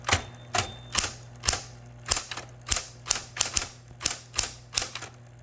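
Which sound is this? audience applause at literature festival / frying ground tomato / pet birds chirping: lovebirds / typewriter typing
typewriter typing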